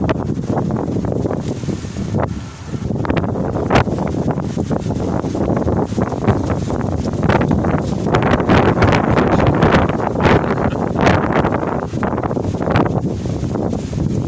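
Strong wind buffets the microphone outdoors near a smoking area, producing a loud continuous roar with rustling surges throughout, and no speech is heard.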